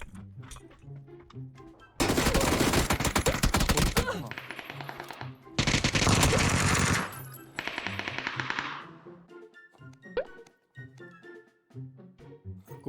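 Loud video-game gunfire in PUBG (Battlegrounds): two dense bursts of rapid automatic shots, then a shorter third burst, with quieter game sounds between and after.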